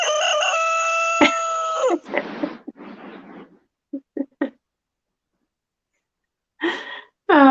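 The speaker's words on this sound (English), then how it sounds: "her I guess fiance Mark bought me this little noise maker, and it's chicken sounds." A small toy noise maker plays chicken sounds: a loud rooster crow first, then clucks and short squawks in uneven bursts with gaps, ending with another burst of crowing.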